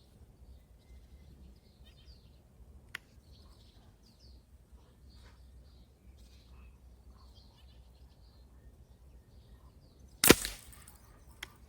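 A single sharp air rifle shot (Chaika 11, match pellets) cracks loudly after a long stretch of quiet outdoor ambience with faint birds, followed by a brief echo.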